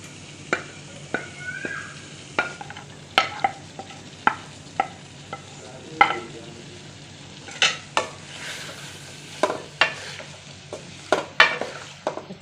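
Chicken stirring and frying in masala for a home-cooked dal chicken: a spoon scrapes and knocks against the pot in a steady irregular rhythm, crisp close clacks over a low continuous sizzle, with no talking.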